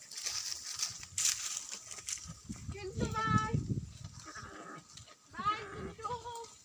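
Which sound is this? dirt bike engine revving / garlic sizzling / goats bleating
goats bleating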